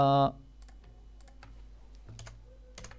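C++ code is typed on a computer keyboard in quick, light clicks with uneven pauses, close and fairly quiet, with a short voiced sound at the very start.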